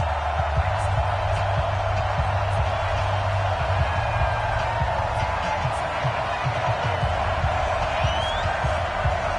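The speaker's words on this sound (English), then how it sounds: "This crowd is ready as their guys get set to match up between the Detroit Lions and the Green Bay Packers." Stadium crowd in the football video game Madden 20, Detroit Lions against Green Bay Packers, a steady broad roar of cheering fans that holds at an even level throughout, with low rumble underneath and faint whistles or shouts rising above.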